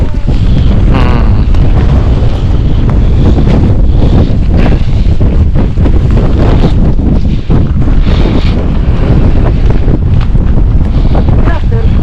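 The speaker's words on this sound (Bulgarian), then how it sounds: "Това да не е ураганния вятър" Strong gusting wind buffets the microphone on Mytikas, the summit of Mount Olympus, a loud, continuous roar with heavy rumble that almost drowns out voices talking underneath.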